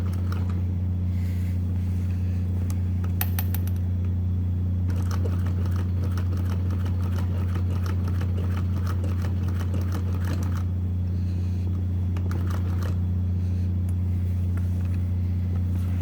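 A sewing machine runs continuously at close range with a loud, steady motor hum and rapid needle chatter, stitching a W pattern over a tight buckle, with brief pauses and changes in pace across the run.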